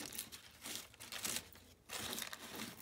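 Paper being torn by hand in several rough bursts, close and crisp, with short pauses between pulls.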